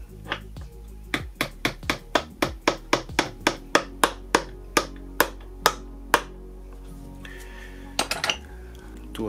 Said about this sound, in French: petit marteau.